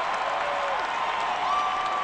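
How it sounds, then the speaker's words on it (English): Crowd of baseball fans applauding in the OOTP18 video game, a steady, even wash of clapping that holds at moderate loudness for the whole stretch. "Yankee fans applaud that effort there by the captain."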